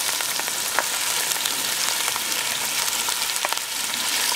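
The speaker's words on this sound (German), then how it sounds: "Das braten wir jetzt portionsweise erstmal an." Steady, crackling sizzle of goulash meat frying in portions in a hot pan, with occasional louder pops and the scrape of stirring, continuous throughout.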